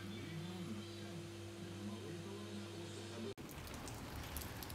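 Steady rainfall patters outside alongside a low electrical hum, then turns into a brighter, louder wash of rain for the last second and a half.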